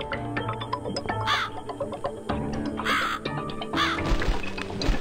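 A crow in the horror game The Cat Lady gives three or four rasping caws spaced about a second apart, each standing out clearly over a low, droning game ambience with faint ticking.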